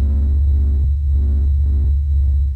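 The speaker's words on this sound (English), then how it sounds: "This is the sound of the sun singing." Solar oscillations sped up into audible sound: a low, droning hum that swells and fades in slow, regular throbbing pulses, steady and continuous with no voices.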